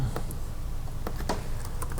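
A computer keyboard is typed on, with scattered, fairly faint key taps at an uneven pace over a steady low hum, and no voices.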